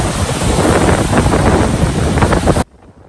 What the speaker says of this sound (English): It takes you right up to the falls and right into the mist.